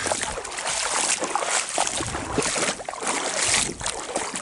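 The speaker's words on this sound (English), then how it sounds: "Sound of the waves crashing on that stuff." Waves crash and wash steadily onto a shoreline during a shore walk, a continuous loud broadband surge with swelling peaks, close by and without voices.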